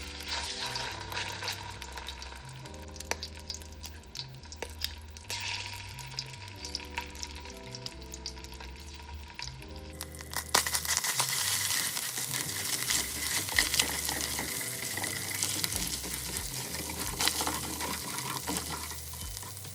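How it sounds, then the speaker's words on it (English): Tomato paste fries in a pot while Jamaican brown stew pork is cooked, giving a steady close sizzle and crackle that grows brighter and louder midway as more is added and stirred. "I'm gonna add a spoonful of tomato paste because I allow this to fry out a little."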